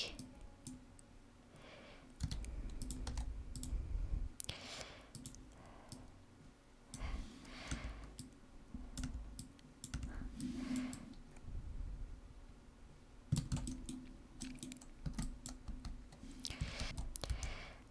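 Soft clicking and typing on a computer keyboard while making pixel art, quiet irregular bursts of keystrokes with brief pauses, close and gentle.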